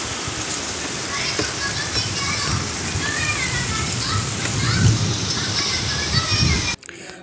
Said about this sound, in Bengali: বৃষ্টি এসে যাচ্ছে ভালো